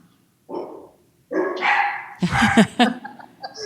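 A dog barking nearby in a series of loud, rough barks and yips, a short bark first, then longer bursts close together, with a brief pause of silence between.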